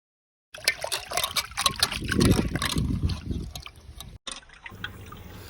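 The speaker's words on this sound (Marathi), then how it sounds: "मच्छी कट करून झाल्यानंतर मच्छी दोन ते तीन वेळा स्वच्छ पाण्याने धुवून घेऊया" Cut pieces of Rawas fish being rinsed in clean water outdoors, with close sloshing, splashing and trickling for several seconds, a brief break, then quieter dripping.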